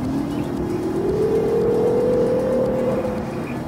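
Electric motor of an Inmotion V12 unicycle while riding, a rising whine that climbs in pitch and levels off over a steady rolling hum, close and fairly loud with no talk.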